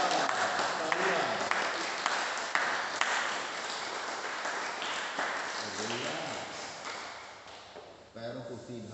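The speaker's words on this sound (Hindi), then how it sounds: "बढ़िया, तालियां" Participants at a Surya Namaskar yoga session applaud in scattered, moderately distant claps, while an instructor keeps talking over them.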